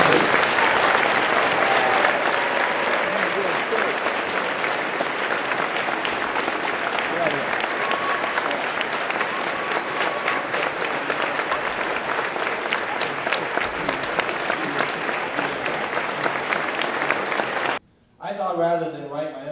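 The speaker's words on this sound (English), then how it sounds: "let's give these veterans a round of applause for all they've done for us in our country" A school assembly of students and staff gives veterans a long, dense round of applause. The sustained, loud clapping fills the room and breaks off abruptly near the end, when a voice begins speaking.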